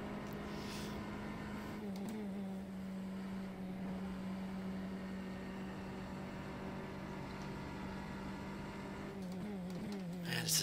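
A Formula 3 race car in rFactor 2 at Road Atlanta hums at steady, fairly thin revs with a slight pitch dip midway, quiet and continuous with no talk.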